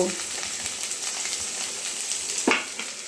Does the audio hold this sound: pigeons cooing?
no